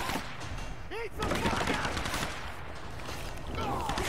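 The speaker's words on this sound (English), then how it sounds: "Shotgun to the face." Gunfire in the Tomb Raider video game: a rapid burst of shots and a shotgun blast with echoing combat noise, mixed with game effects at moderate level.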